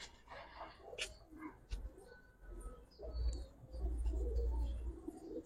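A pair of Kaldom pigeons coo softly up close, low throaty murmurs rising and falling over quiet background rustling, with a few faint clicks and chirps scattered through.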